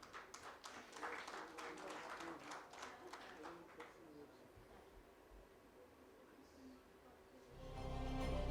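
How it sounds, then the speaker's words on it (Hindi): At an event honouring a guest, a chartered accountant from Mumbai, a crowd claps in a quick, fairly distant burst that tapers off after a few seconds, leaving a quiet room before a low rumble swells at the end. "तो एक बार जोरदार तालियां."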